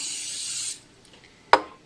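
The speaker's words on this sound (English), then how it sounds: "You're going to use your non-stick cooking spray again and put a light coating" Non-stick cooking spray hisses onto a griddle in one steady burst of about three-quarters of a second, followed after a pause by a single sharp click or tap.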